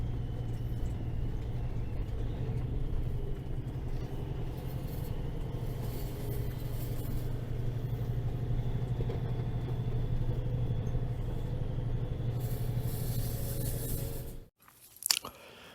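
A loaded farm grain truck carrying wheat rolls steadily onto an elevator weighing scale, a continuous low engine rumble with tire and road noise for about fourteen seconds before cutting off, followed by a brief thump.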